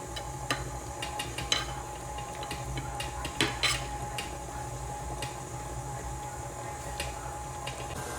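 Buttercream frosting being mixed for a mock Swiss meringue recipe gives off a steady whirring churn with scattered light clicks and taps against the bowl, continuous and moderately quiet.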